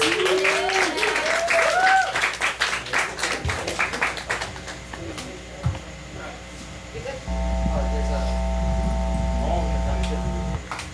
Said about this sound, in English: Give a round of applause to Max.